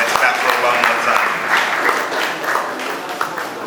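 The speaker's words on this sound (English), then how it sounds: "let's clap for 1 more time." Audience applause at the grand finale of a teaching reality TV show, a steady dense wash of many hands clapping for the full stretch with no pause.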